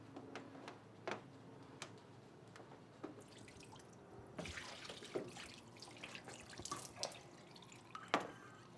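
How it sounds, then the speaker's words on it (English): Water drains out of a GrowoniX GX1000 carbon filter canister, starting as scattered drips and taps, then swelling into a splashing, trickling pour with sporadic clinks, close by and without talk. "A lot of water is going to come out. This thing holds almost a gallon of water. I'm going to pour it out right here."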